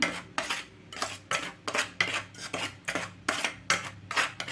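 A spoon scrapes and clinks against a metal bowl while mixing Kashmiri chili powder into cut little gourd pieces, about ten brisk, evenly spaced strokes, close and loud, with no talking.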